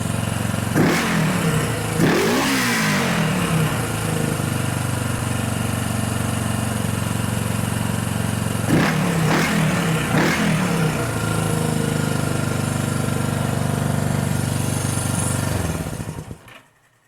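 A 1974 Honda CB 360 motorcycle engine idles loudly and steadily during a carburetor sync, blipped up in two pairs of quick revs that flare and settle back, close up, before the engine cuts off at the end.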